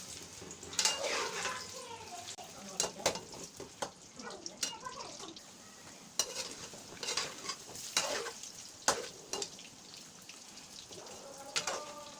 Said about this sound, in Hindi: फिर उसी घी में इन आलूओं को थोड़ा सा फ्राई कर लेंगे